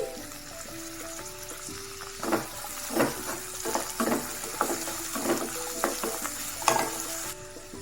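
Chopped capsicum and tomato being stirred in a frying pan for an aloo capsicum masala gravy: a continuous oily sizzle broken by repeated scraping strokes of a spatula, close and fairly loud.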